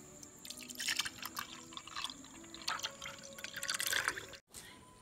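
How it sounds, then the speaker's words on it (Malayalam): Lightly frothed milk, about 250 ml, poured into a cup for dalgona coffee, giving a soft, close trickling and dripping stream with small splashes that swells and fades, then stops briefly near the end. "ലൈറ്റായിട്ട് ഫോം ചെയ്ത് വെച്ചിരിക്കുന്ന മിൽക്ക് ഇതിലേക്ക് ഒഴിക്കാം"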